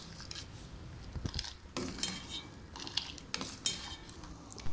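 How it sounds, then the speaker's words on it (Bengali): A spoon scrapes and clinks around a pot of thickening milk for rasmalai, with repeated metallic taps and scrapes in an irregular stirring rhythm, close and moderately loud with no talking. "এই দুধ চামচ দিয়ে এভাবে নাড়াতে থাকলে এই দুধ এমনিতেই গাঢ় হয়ে যাবে।"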